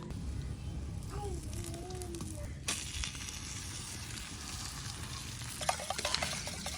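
Egg and parathas fry together on a pan in a village mud-house kitchen, giving a steady close sizzle with a few light clinks and scrapes.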